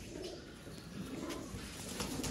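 An old Batera pigeon and its golden female partner coo softly and faintly, a few low, rolling calls in quick succession, close by in a quiet loft.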